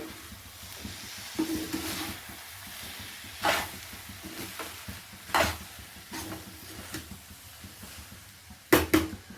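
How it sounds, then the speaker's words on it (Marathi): Spiced rice is stirred in a pan over a low background sizzle, with several sharp scrapes and clanks of the utensil against the metal at irregular intervals. The sounds are close, and no one talks. "आता छान असं मिक्स करून घ्यायचं पहिले।"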